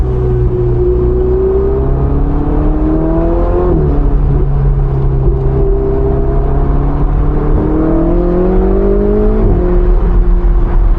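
A Ferrari 488 GTB in race mode drones loudly and continuously on a test ride, its engine pitch climbing and dropping through several rev swells and shifts, heard from close up with no talking.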